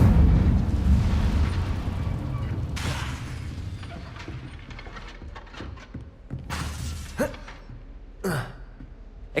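An Incendio fire spell cast in Hogwarts Legacy combat, a heavy whooshing burst of flame that rumbles and fades, followed by several sharp magical impacts and crackles scattered across the following seconds.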